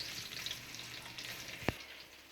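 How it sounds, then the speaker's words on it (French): Onion frying in a pan makes a faint, steady sizzle with light crackling, broken once by a sharp single tap of a utensil near the end. "So while I'm frying the onion"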